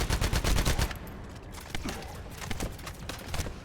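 Rapid bursts of sci-fi gunfire from the shooter game The First Descendant rattle loud and close. A dense volley comes first, then a pause, then more scattered shots.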